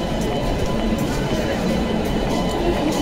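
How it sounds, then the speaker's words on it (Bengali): Train passing through Kharagpur station, a loud continuous rumble of wheels and carriages close by, with people talking over it. "ওই দেখো ট্রেনটা যাচ্ছে"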